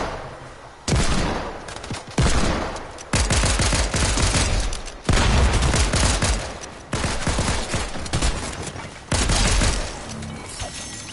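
Heavy, loud bursts of automatic gunfire in a shooter video game, several long sustained volleys separated by short pauses, close and harsh, with no talking over it.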